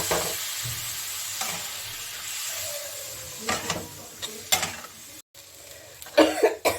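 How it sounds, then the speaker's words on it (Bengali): Broad beans sizzle in a pan with salt and a splash of water, a steady close frying hiss with scraping stir strokes and clattering spoon knocks growing busier toward the end, plus a brief cough. "অল্প করে একটু জল দিয়ে আমি এটাকে একটু কষিয়ে নিব"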